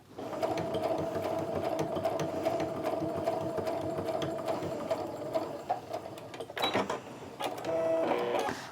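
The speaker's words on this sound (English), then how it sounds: "I'm going to go ahead and pull the pin so I can sew all the way down through there." A sewing machine stitches down through the pleats of a fabric wristlet, running in a loud, steady whirring drone for several seconds before pausing with a few handling clicks and a brief restart near the end.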